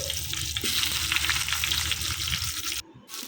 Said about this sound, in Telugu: బ్రౌన్ కలర్ వచ్చేంతవరకు మనం బాగా ఫ్రై చేసుకోవాలండి ఆనియన్ని